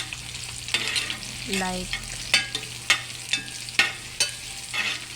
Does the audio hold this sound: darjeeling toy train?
no